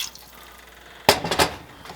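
Water poured into a pot for cheeseburger soup, a sudden splashing gush after a quiet stretch, close and fairly loud, lasting under a second.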